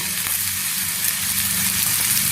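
Cooked aloe vera and fenugreek seeds sizzling in hot oil for a Kerala aloe vera pickle, a steady, close, bright crackling fry with no talking.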